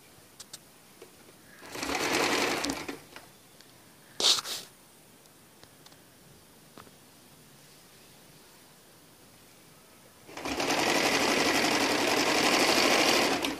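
A sewing machine stitches the curved back neckline of a blouse in two separate runs, a short burst early and a longer steady run at the end, with a sharp brief noise between and quiet gaps.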